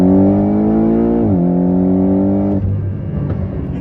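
A Porsche 718 GTS engine climbs in pitch under load on a dyno, a loud steady rising drone with a brief shift dip midway before the revs drop off and settle into a rougher idle rumble.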